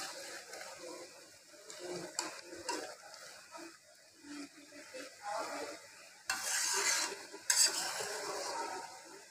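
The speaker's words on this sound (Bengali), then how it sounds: "খুব সাবধানে নাড়তে হবে।" Bengali mustard hilsa fish curry is stirred carefully in a pan, with soft scraping and a gentle sizzle that grow into a louder, hissing burst toward the end.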